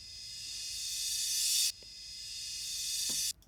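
Two reversed crash cymbal swells, each rising in hissing intensity and then cutting off abruptly.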